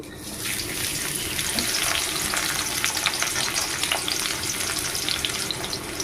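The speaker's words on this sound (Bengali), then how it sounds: "আমি আর একটু তেল দিয়ে দিব তেলে দিয়ে দেবো পেঁয়াজ কুচি" Chopped onion hits hot oil in a pan and fries with a dense, continuous crackling sizzle, loud and close throughout, with no talking.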